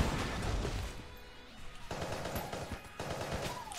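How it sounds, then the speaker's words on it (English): Hegemony rifle firing in the Enter the Gungeon video game, rapid bursts of gunfire in quick succession with game effects, loud and continuous across the clip. "So use the hegemony rifle"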